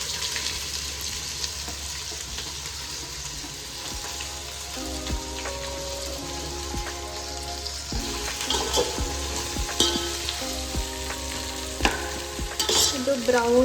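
Chopped onion and bay leaf with cumin frying in hot oil for onion rice, a steady close sizzle with stirring scrapes and clinks growing busier toward the end, no talking.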